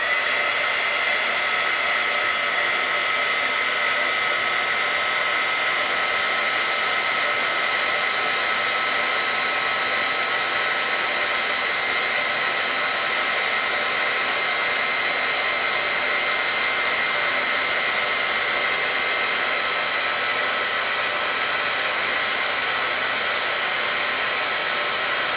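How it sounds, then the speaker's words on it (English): A heat gun blows steadily for the full stretch, a loud and even whoosh with no pauses, aimed at embossing powder until it melts to a gold color on a December Daily craft page. "And then you use your heat gun to set it."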